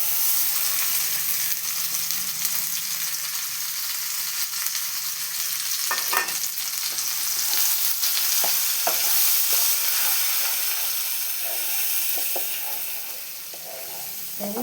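Ground paste frying with asafoetida in hot oil in a pan for a pea-stuffed paratha filling, a steady close sizzle with a few scattered utensil knocks and scrapes, briefly dropping quieter near the end, no voices.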